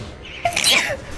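A single sharp sneeze bursts out at close range during a gaming session, a quick intake followed by a bright, breathy blast that fades within half a second over quiet room tone.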